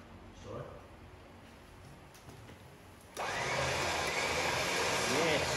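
Electric winch on a Land Rover Defender 90 starts up midway, a steady loud motor whir that jumps in abruptly after a quieter stretch and runs continuously to the end.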